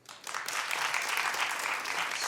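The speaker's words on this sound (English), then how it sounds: "Now clap if you know about this." Steady applause from a talk show studio audience fills the room, rising quickly and holding at a dense, even level throughout.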